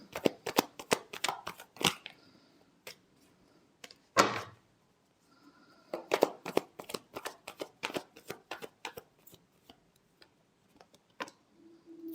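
Tarot cards shuffled by hand, quick riffling flicks and soft slaps in irregular bursts with short pauses, close and fairly quiet, one louder rustle midway.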